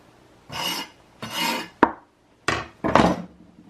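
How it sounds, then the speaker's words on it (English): A knife roughly chopping an ingredient on a cutting board in a kitchen: several separate rasping, scraping strokes with a sharp knock partway through, close and fairly loud, with no talking. "I'm just going to, just chop this up kind of roughly."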